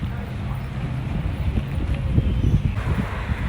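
Steady, blustery wind in Hawaii buffets the microphone with a continuous low rumble, loud and unbroken throughout.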